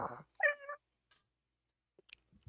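A voice imitates a cat-like yowl recalled from a horror movie: a short harmonic wail that rises and falls, preceded by a brief bit of talk and followed by faint scattered clicks and noises.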